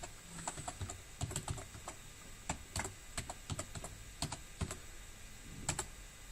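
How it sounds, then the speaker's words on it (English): Keystrokes rattle on a computer keyboard while university login credentials are entered, bursts of clicks with brief pauses, close and moderately quiet, with no talk. "if you just let me type, I will put in my details"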